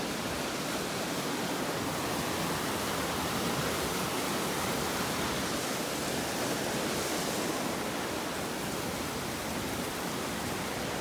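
Bryant Creek flowing near a backcountry trail on the way to Mt. Assiniboine, a loud, continuous broadband rush of water that stays steady throughout with no voices.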